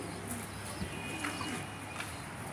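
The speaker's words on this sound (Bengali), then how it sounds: "আর এখানে এলো কবুতর।" Pigeons coo softly in a farmyard pen, a faint, low, continuous murmur heard on its own.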